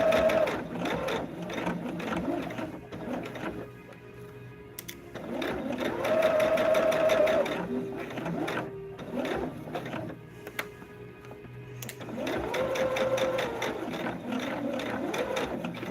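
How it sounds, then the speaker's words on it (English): A sewing machine stitches a diagonal stripe quilt in close, steady bursts of motor whir and needle rattle, pausing and restarting several times, with a faint low hum underneath. "now let's sew. Let us sew."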